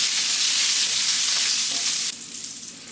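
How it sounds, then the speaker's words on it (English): Linguiça sausage and bacon frying in a pan for Portuguese feijoada, giving a loud, steady sizzle and crackle throughout that drops to a softer level near the end. "Linguiça's got a good color on it. The bacon's already getting toasted."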